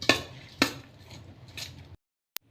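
A spoon mixes pakora panjiri ingredients in a bowl, making a few close clinks and scrapes spaced out over two seconds, then silence broken by one faint tick.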